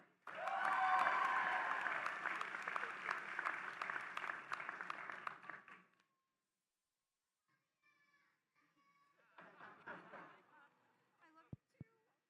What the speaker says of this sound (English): Let's give another round of applause for our Doctor of Pharmacy graduates from our Chicago campus.